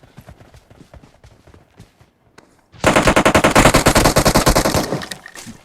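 Sustained machine gun fire in the PUBG Mobile shooter, a loud rapid burst of evenly spaced shots lasting about two seconds that follows quieter game sounds and soft talk.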